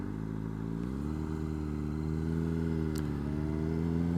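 A Honda CBR600RR sport motorcycle idling and ticking over on a gravel property, a steady low engine drone with a slight rise in pitch, close and continuous.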